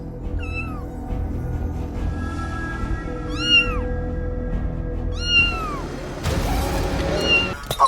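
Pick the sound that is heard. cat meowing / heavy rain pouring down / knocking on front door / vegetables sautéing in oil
cat meowing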